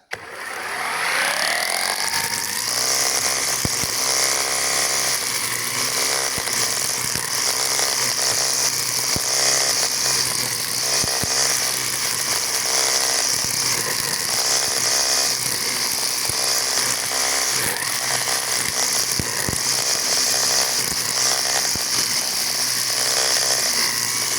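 A Procraft ATA40 battery-powered line trimmer cuts grass and weeds, giving a steady, loud, high-pitched motor whine that runs continuously for the whole stretch, with small shifts in load as it slices through the vegetation.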